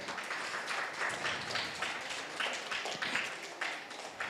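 An audience at a children's book event claps steadily to welcome the young participants, a faint, continuous patter of many hands with no voices over it.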